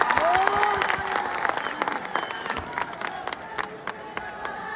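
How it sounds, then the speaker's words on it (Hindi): Audience applause and cheering rise loud and sustained at a Bhojpuri music event, dense clapping carrying throughout with a few voices calling out over it. "एकदम ताली हो जाए गुरु।"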